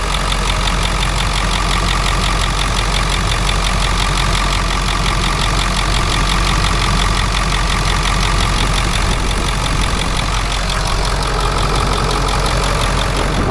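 A wrecker truck's engine idles steadily and close by, a continuous low rumble with a faint knocking texture that holds unchanged throughout, with no voices.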